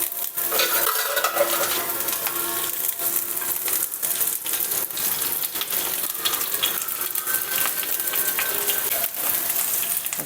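Curry leaves sizzle in hot coconut oil in a pan, a close, continuous crackle with rapid spitting and occasional scraping or stirring clinks throughout.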